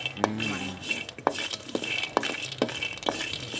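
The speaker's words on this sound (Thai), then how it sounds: "อันนี้สงสัยไฟแรงอยู่ใช่ไหมครับ เลยต้องคั่วถี่ถี่" Wild almonds dry-roast in a pan over high heat, stirred briskly so the nuts rattle and a utensil clinks against the metal in regular, close strokes.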